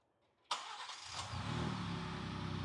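A Ford Ranger Raptor truck engine cranks and fires with a sharp onset, then settles into a steady, rumbling idle heard up close.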